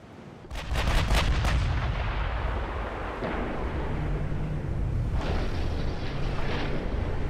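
Heavy naval gunfire and shell impacts from a dreadnought-era battleship game, a dense run of booming blasts with sharp cracks early on, then a sustained loud rumble with another strike near the end; no voices.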